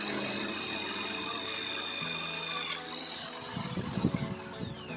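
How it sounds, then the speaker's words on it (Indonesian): A power drill fitted with a drill bit whines steadily, then bites into material with rough grinding bursts as holes are drilled quickly; no one speaks. "Mengebor 6 lubang, cepat sekali."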